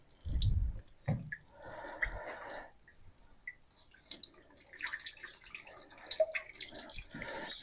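Fluid drains from a 1963 John Deere 5010 tractor in a gentle, uneven trickle of drips and splashes, quiet and close by, with a few brief knocks at the start.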